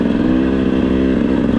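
A 2025 GasGas EC 300 GP dirt bike engine runs close and loud with a steady, smooth droning tone, briefly and with no voices.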